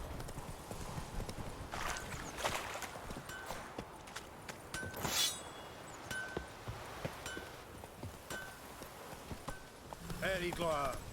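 Hooves of the horse Roach in The Witcher 3 clip-clop at a steady walking pace under ongoing game sounds, with a louder flurry midway and a whinny-like sound near the end.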